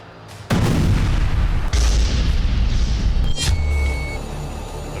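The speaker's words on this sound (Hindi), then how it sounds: "चौथा विस्फोट।" Airstrike explosions in Gaza crash out as loud booms, one after another, each spreading into rumbling debris noise before slowly fading, with no voices present.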